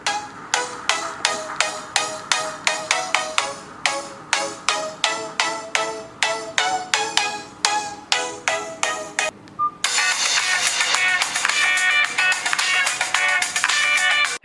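Music plays from the dual speakers of a 2020 Nokia 5310 phone, recorded nearby: a bright, tinny track with evenly pulsing notes, then a denser, fuller passage that continues without pause.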